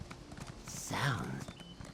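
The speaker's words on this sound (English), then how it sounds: "Footsteps. Blowing past." A horse walks in a video game, its hooves clopping in a soft steady rhythm that sits under speech and a swelling background sound.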